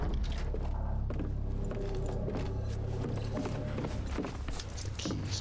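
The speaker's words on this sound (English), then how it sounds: "It's the keys jangle." Keys jangle in the Song of Horror survival horror game, a metallic jingling running over a dense, continuous backdrop of ambient game sound and low rumble, with no one talking.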